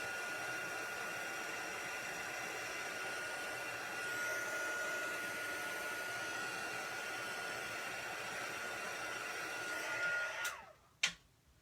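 An embossing heat tool blows a steady, loud whooshing hiss of hot air over a card-making piece for about ten seconds, then is switched off, leaving a couple of sharp handling clicks.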